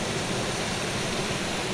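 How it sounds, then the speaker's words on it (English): A small waterfall and brook at Fairy Glen pour over moss-covered rocks, producing a steady, loud, broadband rush of water with no pauses or voices. "the water is streaming down and bouncing off the rocks at the bottom"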